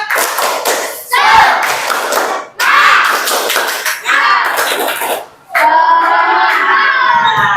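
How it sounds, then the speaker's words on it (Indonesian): A school class claps a rhythmic spirit cheer in bursts of quick hand slaps, pausing between sections, with children's voices chanting along near and loud. "Tepuk semangat."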